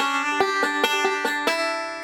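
Banjo pinch followed by two forward rolls, a quick run of about seven evenly spaced plucked notes with bright, ringing tone, close and without any voice.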